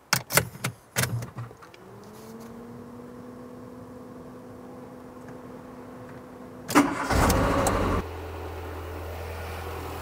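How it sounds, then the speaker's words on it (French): A car engine, nearly due a timing belt change, cranks and catches, then runs at a loud, steady idle, after a few sharp clicks and a long electrical whine. "Ça démarre."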